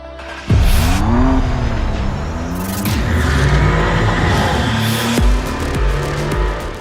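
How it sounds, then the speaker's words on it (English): A Maserati MC20's twin-turbo Nettuno V6 engine roars close by, revving up through several rising gear pulls with sharp shift breaks and a steady throaty drone. "Maserati designed the Nettuno V6 entirely in-house."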